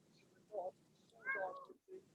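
A house cat meows indoors, two or three short, fairly close calls, the middle one longer and rising, against quiet room noise while someone speaks softly.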